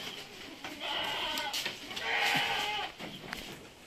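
A purebred Anglo-Nubian goat bleats nearby, a wavering nasal cry with a couple of shorter calls around it, fairly faint over quiet outdoor background.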